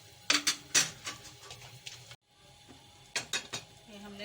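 Several brief scraping, rattling clatters of soaked masoor lentils tumbling into a metal pot, in two bursts separated by a short quiet gap.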